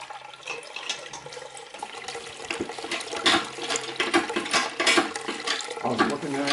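Apple cider pours steadily through a hose into a vat during pressing, a continuous rushing, splashing flow of liquid with some clatter, heard close.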